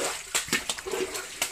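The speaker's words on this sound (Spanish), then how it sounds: "Es el río que pasa por debajo de Catedral." Water rushing steadily through a stone tunnel beneath Guadalajara's cathedral, with a few sharp splashes and drips standing out over the continuous flow.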